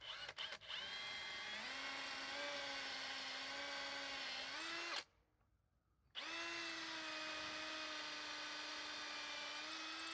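A steady high-pitched electric drill whine runs continuously as it bores into concrete without hammer action, stops for about a second, then starts up again at the same pitch. No hammering pulses.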